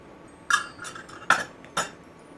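A stainless steel measuring cup scooping all-purpose flour while baking, giving three short metallic clinks and scrapes close by, spaced apart against a quiet background.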